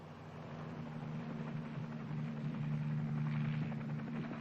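A military helicopter runs steadily in an old military film, its rotor and engine drone holding a constant close hum with a low throbbing tone, no voices.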